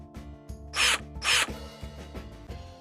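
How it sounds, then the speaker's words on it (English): A power drill bores a hole for a Starlink installation, two loud whirring bursts close up over a steady mechanical hum, followed by lighter clicks and rattles. "So here we go, we're gonna drill a hole."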